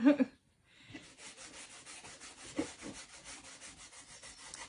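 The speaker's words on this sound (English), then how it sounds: "So let's go ahead and wax our surface." Wax being rubbed by hand onto a smooth craft pumpkin surface: soft, quiet repeated brushing strokes in a steady back-and-forth rhythm, close up after a brief pause.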